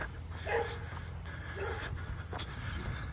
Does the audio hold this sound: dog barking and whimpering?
yes